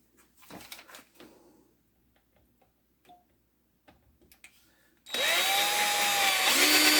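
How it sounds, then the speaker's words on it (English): Power drill boring a pilot hole in metal held in a vise while repairing an Atari 7800 joystick controller; a loud, steady whine kicks in late and runs continuously to the end, after a few quiet clicks and handling taps. "Just going to put a decent sized pilot hole there to keep the bit where I need it to be."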